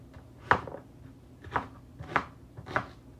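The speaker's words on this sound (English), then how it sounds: "So right now I'm cutting the onions." Knife cutting onions on a board, four distinct close chops spaced unevenly over a quiet background, no speech.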